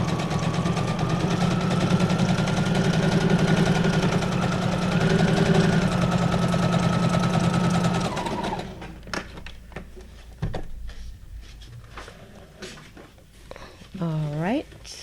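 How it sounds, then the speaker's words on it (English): A sewing machine stitches paper pages for a junk journal, a steady mechanical whirring that runs for about eight seconds before stopping, followed by quieter handling noises and faint talk. "I'm going to use the same stitch."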